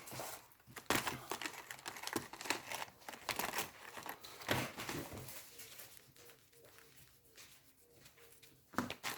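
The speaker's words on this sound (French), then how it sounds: "Je vais gommer." Rubber eraser scrubbing across paper while a paper gift box or urn is being made, heard as close, quick rhythmic rubbing strokes with soft crinkling of the sheet.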